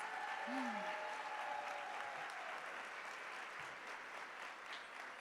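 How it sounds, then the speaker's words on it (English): Dense, steady audience applause after a performance at a bilingual parents' summit, a continuous wash of many hands clapping that holds level and fades only slightly over several seconds. "let's give him a really, really loud round of applause, please"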